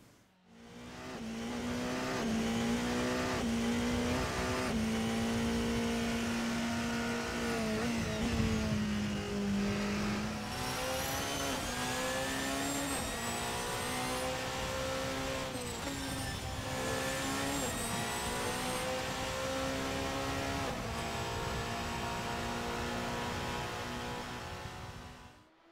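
An RSS Protech P91 Hybrid Evo prototype race car, a Porsche 919 Evo in a sim racing game, revs hard with a loud, high-pitched engine whine that climbs and drops through gear changes for about twenty-five seconds.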